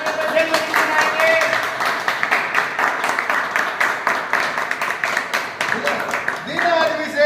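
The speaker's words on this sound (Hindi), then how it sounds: "तो जोरदार तालियों के साथ जन्मदिन मनाएंगे।" Audience applause at a birthday celebration during a teacher training gathering, dense steady clapping from a crowd running throughout, loud and continuous with a few brief swells.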